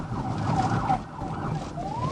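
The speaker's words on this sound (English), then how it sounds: "Lights flip on, sirens hit" A police car siren wails during a dashcam pursuit, its rising tone sweeping over engine and road rumble inside the moving cruiser, moderately loud with no talking.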